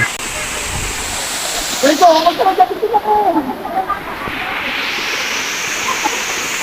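A tall waterfall at Bagac, Bataan roars as a steady broadband rush, with a person talking over it partway through.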